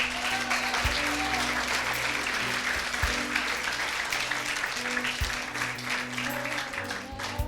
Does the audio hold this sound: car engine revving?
no